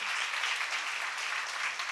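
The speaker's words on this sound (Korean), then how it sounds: "박수로 하나 드리세요" A seminar audience at a church gathering gives a round of applause, a dense, even wash of many hands clapping together with no breaks.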